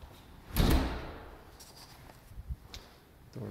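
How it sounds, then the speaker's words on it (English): A single solid door thud near the start, close and fairly loud, followed by faint knocks and shuffling in a quiet room. "Let's close this door."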